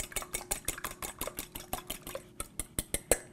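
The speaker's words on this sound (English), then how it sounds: "let's add an egg and just kind of beat that up a little bit" An egg being beaten in a bowl for a meatloaf-style stuffing for cabbage rolls: a fast, even run of light utensil clicks and taps against the bowl, close and steady, with no talking.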